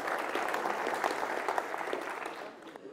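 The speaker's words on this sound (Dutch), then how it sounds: "ik weet het wel zeker dat het applaus voor Ida geldt" An indoor audience at a dictation contest in Hardenberg, 2016, claps steadily for about three seconds, a dense patter that tapers off at the end.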